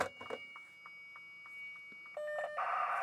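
A Courier modem answers over a telephone line while someone waits for a carrier. Sparse, soft beeps lead into steady tones, and then a loud hissing modem carrier sound fills the line near the end.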